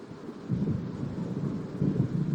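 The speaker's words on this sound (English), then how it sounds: "It seems there's a storm coming." Low, rolling thunder from an approaching storm in the Alan Wake Remastered video game swells and fades over a steady rain-like hiss. The rumble is continuous and moderately distant, with no voices.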